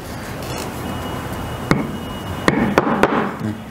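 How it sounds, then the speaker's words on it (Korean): Hand hammering on wood in a traditional woodcraft workshop in Kokand, with several sharp, close taps spaced unevenly over a steady background hum and no talk. "망치로 이제 나무를 하나씩 두드려 가지고 이제 손으로 만드는데"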